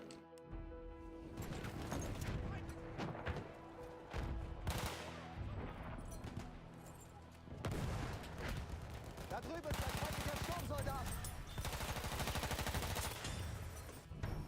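A submachine gun fires in Battlefield 1 in loud, rapid bursts. Explosions and other battle noise crash in between, and a voice talks over parts of it.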